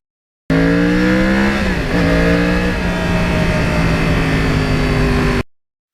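A Yamaha R1 crossplane motorcycle engine drones loudly and steadily while riding, with its pitch dipping briefly as it shifts and then climbing smoothly again.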